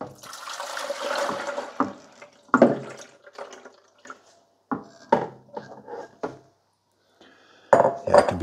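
Bleach and water are poured into a GE Profile Opal 2.0 nugget ice maker, uneven bursts of splashing and trickling liquid with plastic knocks between pauses, close and moderately loud, without talk.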